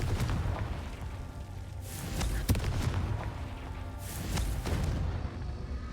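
Confringo fire-blast spell explosions in Hogwarts Legacy: repeated booming bursts and crackling blasts over a rumbling bed, fairly loud and continuous.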